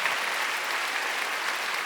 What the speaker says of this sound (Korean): 하나님께 박수겠습니다